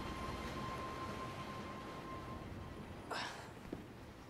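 A train runs in the video game Resident Evil 2: a steady, even rumble of moving carriages fills the whole stretch, with a short airy hiss and a small knock near the end.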